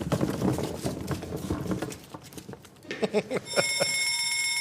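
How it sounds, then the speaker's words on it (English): Busy clattering and thumps give way to a bright electronic alarm that rings steadily for the last second or so, loud and close. "When you hear the hammer alarm, you know what that means."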